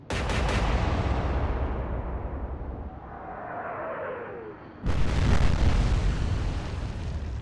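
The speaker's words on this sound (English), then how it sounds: "Big explosion, central area." A big shell explosion in the naval warfare game Atlantic Fleet: a loud, sustained roar that fades into a rumbling tail, then a second heavy blast hits and rolls on, with no talk over it.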